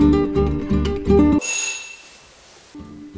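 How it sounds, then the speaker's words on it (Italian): Doorbells ringing in a health centre in Casamassima: a repeated electric bell tone pulsing in a quick steady rhythm, then cutting out, with a brief high ring-off and the ringing starting again at the end. "Campanelli funzionanti, l'avete sentito"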